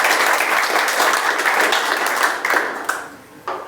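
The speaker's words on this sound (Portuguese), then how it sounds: "Se vai aplaudir, aplauda ao Rei." A church congregation breaks into loud, sustained applause that fades out toward the end, leaving a few scattered claps.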